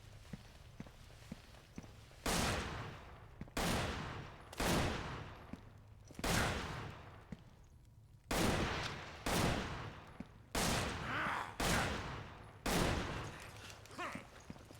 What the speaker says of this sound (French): Il est tiré dessus encore